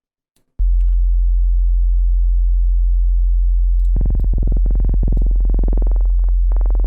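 A steady sine-like test tone runs alone, then from about four seconds it breaks into loud, torn, buzzing bursts as the signal is pushed through the iZotope Trash distortion plugin.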